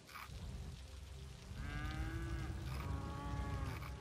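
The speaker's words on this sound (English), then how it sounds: "Wow, that's a lot of mooing." Cattle mooing in the city-building game Cities Skylines, several overlapping moos from about halfway on over a steady low ambient rumble, fairly loud and continuous.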